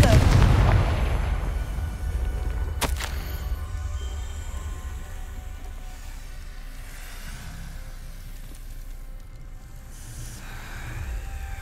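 Confringo fire spell in Hogwarts Legacy bursts with a loud booming explosion at the start, followed by a sharp crack and a long fading rumble of game ambience.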